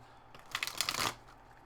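A deck of tarot cards is shuffled by hand, a quick close riffle of papery flutters and snaps lasting under a second, heard alone in a quiet room.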